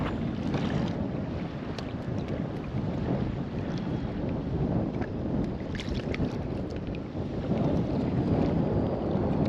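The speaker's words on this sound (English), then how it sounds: "It's a little windy out here." Steady wind gusting over a lake around a small fishing boat, with whitecaps on the water after a passing rain shower; a constant broadband rush and buffeting on the microphone fills the whole stretch without letup.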